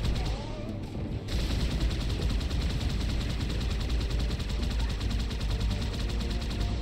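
Heavy gunfire in the shooter Halo 2 Anniversary, a continuous rattle of rapid automatic shots, loud and close, running without pause after a brief lighter opening, with some voices underneath.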